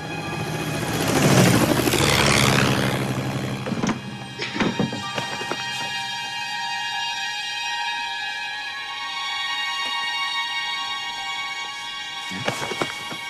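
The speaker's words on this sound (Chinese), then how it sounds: "又有飞机飞过去了。" A military aircraft passes over a wartime anti-Japanese resistance setting near a suspected Japanese airfield in the Taihang Mountains, swelling into a loud broadband roar and fading to a lingering drone with faint distant knocks.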